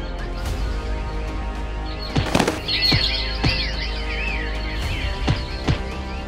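Cartoon birds flap their wings in busy bursts, with a few squawks and sharp accents over a steady background of animated-show effects, no talking.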